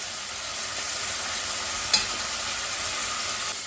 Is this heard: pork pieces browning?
yes